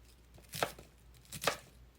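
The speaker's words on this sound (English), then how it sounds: "And we cut better small pieces." A knife chops half a head of cabbage into small pieces on a board, two sharp, close thunks spaced about a second apart with quiet between.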